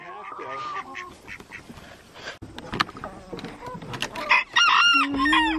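Broody backyard hens cluck and squawk close by, with busy, uneven calls and a brief crow-like burst near the end, while people talk over and between them.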